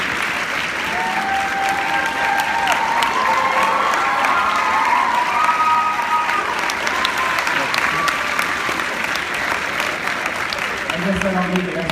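Audience at a high school male pageant on stage applauding and cheering, a dense, loud, sustained wash of clapping and shouts that keeps going throughout, with some voices calling out within the crowd.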